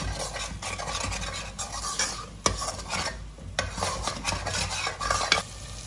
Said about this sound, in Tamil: இப்போ இந்த ஸ்டேஜில் நம்ம அரைச்சி வச்சிருக்க பொருட்களை இதில் சேர்த்து அதையும் நல்லா சுருள வதக்க போகிறோம்.